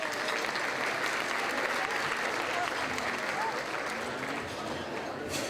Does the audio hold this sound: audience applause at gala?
yes